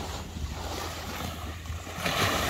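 Small, gentle sea waves lap at Bombinhas beach on a calm autumn day, heard as a steady close wash of surf mixed with wind noise on the microphone.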